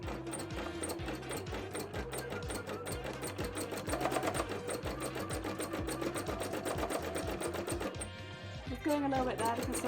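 A sewing machine runs a zigzag stitch in a fast, continuous mechanical rattle close by, with a voice talking quietly underneath and a short pause near the end before the stitching resumes.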